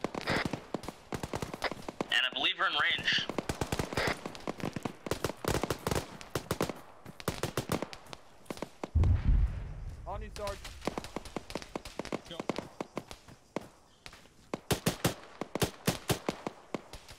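Rapid gunfire crackles in an Arma Gulf War firefight, sharp repeated shots in bursts spread through the whole stretch, with a heavier thump near the middle and voices talking between volleys.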